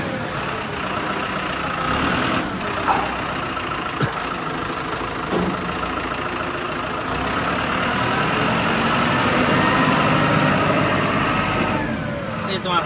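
A hydraulic pump on a big automatic concrete block machine, used to offload the mold box, runs as a steady, loud mechanical drone with a faint clank or two, while a person talks over it throughout.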